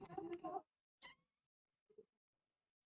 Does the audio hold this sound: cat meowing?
yes